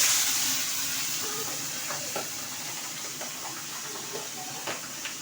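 Pabda fish frying in hot oil in a home kitchen, giving a steady close sizzle and hiss throughout with scattered small pops and crackles rising above it.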